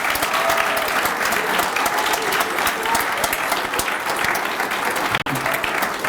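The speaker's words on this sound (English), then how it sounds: "Let's give these girls a big round of applause" Graduation audience applauding steadily and fairly close, a dense unbroken wash of clapping that holds for about six seconds with a brief dip near the end.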